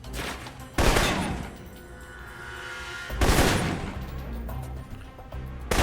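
Assault rifle fire in the video game Alpha Protocol: two loud bursts of shots, near the start and again past the midpoint, with a steady low hum of game ambience between them.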